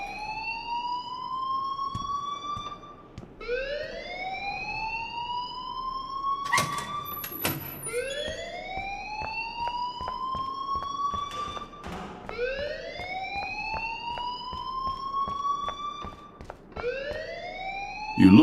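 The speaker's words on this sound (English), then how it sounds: "please turn off that alarm since that's your job" A fire alarm in the video game Life is Strange sounds as a siren-like tone rising over and over in regular sweeps, loud and steady, with faint thumps and taps underneath.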